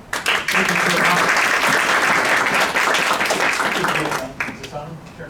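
Sustained applause from a full audience at a judicial candidates' forum, loud and steady for about four seconds before thinning toward the end, with voices murmuring underneath.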